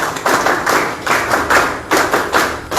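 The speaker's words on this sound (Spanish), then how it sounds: "fuertes palmas para él por estar presente" An audience applauds a guest at a panel debate on industrialization in Peru, producing dense, sustained clapping that swells in rhythmic waves with no talk over it.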